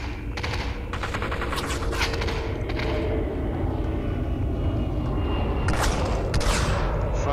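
Shotgun fire in the VR shooter Population: One, with dense bursts of gunshots over a constant loud roar of game noise and no talking.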